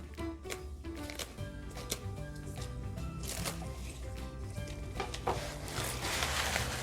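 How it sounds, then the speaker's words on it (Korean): Yellowed outer leaves are pulled off a head of spring cabbage (bomdong), making close, crisp snapping and crackly rustling sounds in irregular bursts. "누런잎은 따버리고요."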